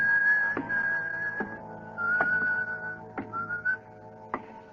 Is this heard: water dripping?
no